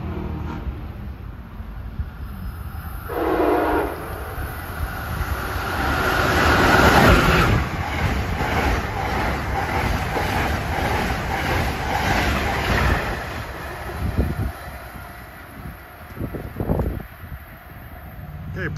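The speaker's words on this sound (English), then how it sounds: "approaching his train 129, New York to Washington" Amtrak train 129, New York to Washington, runs through on the nearest track in Bucks County, Pennsylvania, a rising, sustained rumble and rush with rhythmic clatter, swelling loudest midway and then easing, with a voice speaking at times.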